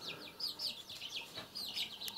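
Adler breed chickens calling and clucking close by, a run of short high chirpy notes repeating steadily with a faint low rumble underneath.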